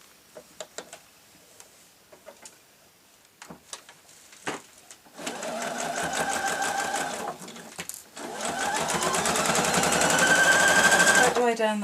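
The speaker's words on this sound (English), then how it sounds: "you sew across the pressed line just here" A sewing machine stitches along the pressed line of a fabric slipper, starting after a few scattered clicks and then running in two long, steady bursts with a brief pause between, close and loud.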